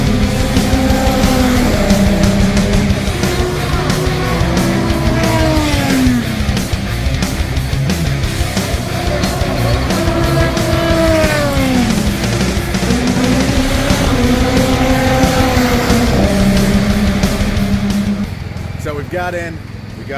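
IndyCar race cars roar past at a race event, loud and continuous, with engine pitches rising and falling as cars sweep by one after another; voices murmur underneath.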